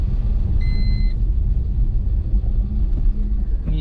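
A car rolls along a potholed village road in second gear, with a steady low rumble and engine drone throughout, a couple of brief high beeps early on, and no talk.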